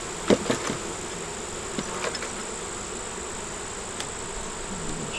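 Honey bees buzzing steadily at the edge of a hive, a constant close hum with a few faint knocks and scrapes near the start.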